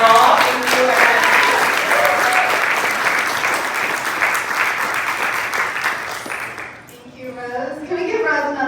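A panel audience applauds at a Bisexual+ narratives in film and TV event, dense sustained clapping filling the room for several seconds before fading, with a voice speaking as it dies away.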